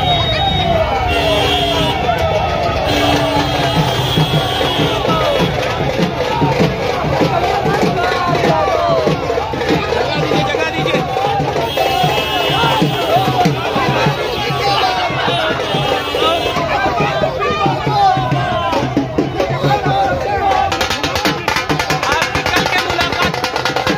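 A large crowd of political supporters gathered at Ballia crossing, a continuous dense babble of many voices with vehicle noise mixed in, loud and steady throughout, with a voice talking over it.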